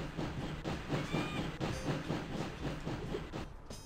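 A train rolls along in the PS1 game Sheep, Dog 'n' Wolf, its steady clickety-clack rhythm running continuously under a faint hiss, with a brief high whistle-like tone partway through.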